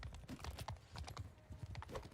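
Rapid, quiet hoofbeats clip-clop in a quick galloping rhythm, faint and steady throughout, from the video game mod Empires of Europe 1100.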